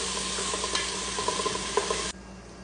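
Olive oil sizzles in a pot while a spoon stirs it at the start of cooking kabsa, with scraping strokes over a steady crackle before the sound cuts off abruptly near the end.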